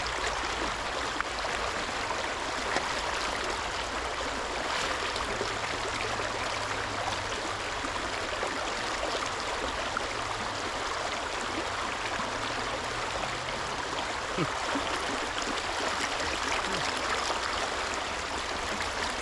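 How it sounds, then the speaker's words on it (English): Fast-flowing stream water rushes past a riverside gravel bar at a gold-prospecting spot, a loud, continuous close-up roar and splash that stays steady throughout with no talking. "Water is moving right here."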